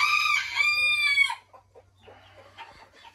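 A Belgian porcelain bantam rooster, about two years old, crows once, close and loud, with a long harmonic call, followed by faint soft clucking in a quiet space.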